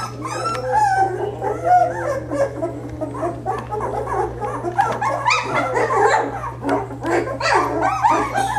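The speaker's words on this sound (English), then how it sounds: "Yeah, we hear you barking." A Vizsla puppy barks and yips repeatedly in short, excited bursts, fairly close, with whimpers mixed in over a steady electrical hum.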